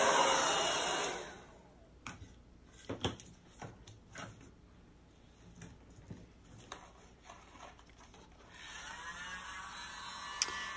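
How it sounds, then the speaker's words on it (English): A tiny battery leaf blower pushes wet acrylic paint in a Dutch pour, a thin whirring blast at start and end with quiet clicks, taps and small knocks in the lull between. "It's a little leaf blower, it's called the world's smallest leaf blower."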